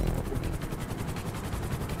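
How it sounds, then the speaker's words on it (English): A helicopter in a GTA 5 race, a steady loud rotor drone with rapid chopping pulses filling the whole stretch, close and continuous with no talk over it. "I hate this helicopter."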